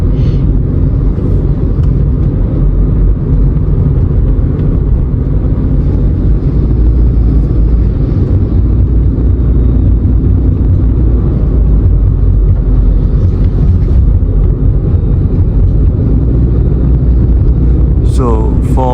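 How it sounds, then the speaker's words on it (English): Steady low engine drone and CVT whine from a 2019 Proton Persona 1.6 Premium while driving, a continuous loud cabin rumble with little change, plus a brief chirp near the end. "the engine sound is actually very noticeable, which is something I don't like, the engine and the CVT sound."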